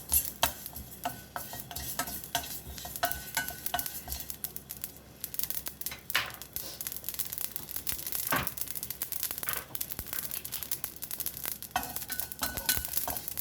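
Dry-roasting ingredients being stirred in a pan for Odia dalma, a steady scraping and rustling with light sizzle throughout, close and continuous, with no talk.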